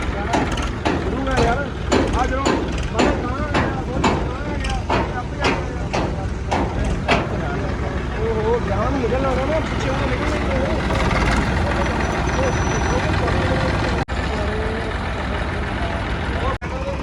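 A tractor pulling a trolley runs steadily as it is driven out at a Hola Mohalla gathering in Anandpur Sahib, its engine drone continuous under repeated sharp mechanical clicks early on, with people talking nearby throughout.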